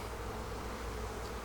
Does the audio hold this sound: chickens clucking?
no